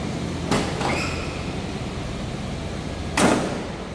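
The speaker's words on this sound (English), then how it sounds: "Door closes nicely." Two broadband slams about three seconds apart, the second louder, as a 1987 Chevrolet Monte Carlo SS Aerocoupe door shuts, over steady low background noise.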